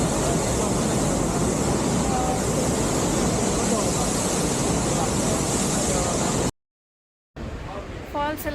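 A waterfall in Bali near Ubud roars as a steady, dense rush of falling water, loud and unbroken for most of the stretch, then cuts out briefly before returning with faint voices over it.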